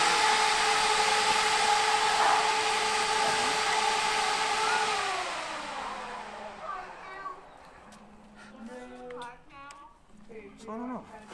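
An air compressor in a workshop during a bracket dragster build runs with a steady loud drone and whine, then spins down and falls quiet as people start talking.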